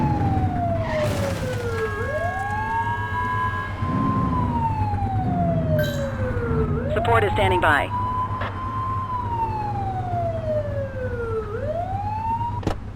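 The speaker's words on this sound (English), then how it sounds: "Remember to turn your siren on." A video game police car siren wails, sweeping up and down repeatedly, loud and close, with electronic whoops and engine hum beneath; a voice speaks briefly over it.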